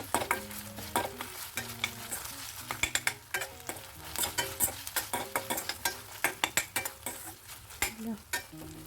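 Frying onions with ginger garlic paste sizzle in a pan as a spoon stirs them, giving repeated close scrapes and taps over a steady crackling hiss, with no one talking.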